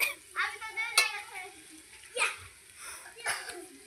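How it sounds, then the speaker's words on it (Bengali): Chicken curry cooking in a pan, with a steady sizzle and frying hiss, some stirring scrapes, and a few sharp clinks from a utensil against the pan. "রান্না হচ্ছে।"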